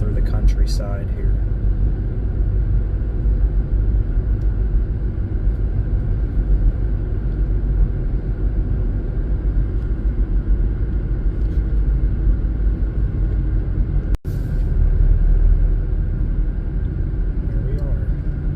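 A car drives through countryside toward Simon B. Elliott State Park near Penfield, Pennsylvania, with a steady road and engine rumble from inside the cabin that runs the whole way, broken once by a sharp click.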